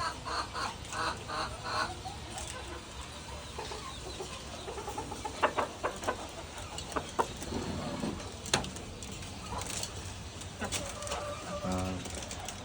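Chickens cluck and a rooster calls repeatedly in a busy farmyard, with scattered bird chatter and occasional faint voices in the background.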